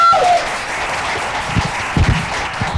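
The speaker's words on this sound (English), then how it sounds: "How about a round of applause for Don Hill and his team real quick" Short burst of crowd applause, fairly loud and close, fading into scattered claps.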